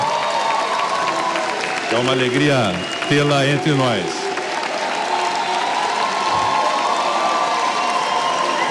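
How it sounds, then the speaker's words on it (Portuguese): Applause in the Brazilian National Congress for Simone Tebet, Minister of Planning, at the promulgation of the tax reform, a steady crowd clapping throughout with someone speaking over it briefly near the start. "Muito aplaudida, Simone Tebet."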